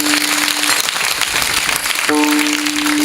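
Audience clapping at a Marathi devotional kirtan discourse, a dense, steady wash of applause that fills the whole stretch at even loudness, with a faint sustained tone running beneath it at the start and end.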